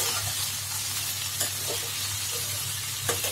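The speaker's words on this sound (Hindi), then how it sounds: "हम थोड़ा सा नमक डालेंगे, नमक डाल के हम फ्राई करें और इसको अच्छा से मिला लेंगे।" Jackfruit fries in a pan with salt, a steady loud sizzle running throughout, broken by a few soft scrapes and clatters as it is stirred.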